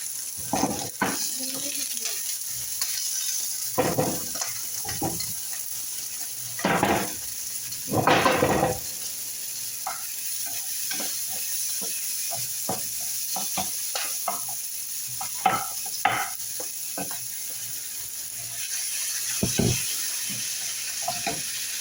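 Flat beans frying in oil in a pan, a steady hiss running throughout with intermittent stirring scrapes and clinks, fairly close and moderate in level.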